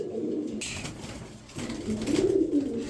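Soft, low cooing of Pakistani and one-side-white pigeons at a pigeon sale, a couple of throaty rolling calls close by, with faint background rustling.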